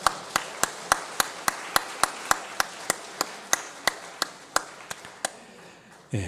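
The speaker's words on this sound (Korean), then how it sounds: "우리 격려와 또 감사의 박수 한번 같이 하시겠습니다" A Sunday church congregation claps for its elders in slow, even unison, about twenty crisp claps at a steady beat that ends abruptly.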